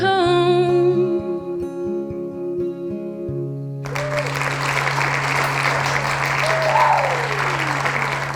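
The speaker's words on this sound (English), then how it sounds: "Make some hands in the comments for the applause." Applause after a song at an online quarantine concert: a held sung note and keyboard chord fade out, then steady crowd clapping rises and continues to the end.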